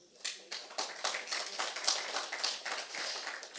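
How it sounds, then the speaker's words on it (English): Light audience applause at a business forum for a startup investment speaker, a thin, steady patter of many hands clapping lasting several seconds, moderately distant and fairly quiet. "Round of applause for Mr."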